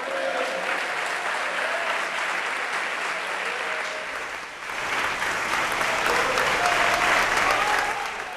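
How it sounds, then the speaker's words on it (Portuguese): Congregation at a Christian revival service applauding, a steady wash of many hands clapping throughout with a brief dip midway, some voices mixed into the crowd. "Pode aplaudir a Jesus."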